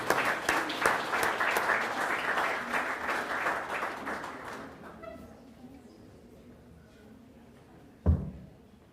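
Audience applause at a Blue Flag and Green Coast awards ceremony, steady dense clapping for about five seconds before it thins out and dies away, with one sharp knock near the end.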